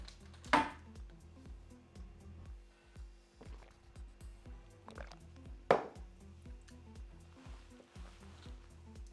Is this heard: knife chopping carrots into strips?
yes